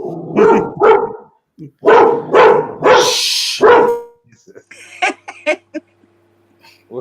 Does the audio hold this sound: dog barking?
yes